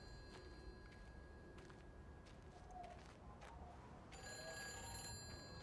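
A telephone rings in the game Everybody's Gone to the Rapture, with faint repeated tones sounding distant and quiet over a soft ambient background, growing slightly louder toward the end.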